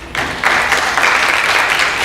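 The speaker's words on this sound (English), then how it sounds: "You should give yourselves a round of applause for kicking this off." Audience applause at an environmental summit in Atlanta, Georgia: dense, steady clapping from a large crowd that swells in after a brief quiet start and holds loud and even throughout.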